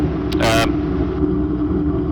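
The warmed-up engine of the Raptor prototype vehicle idles with a steady low rumble, briefly joined by a short sharper burst early on, close and fairly loud with no talking.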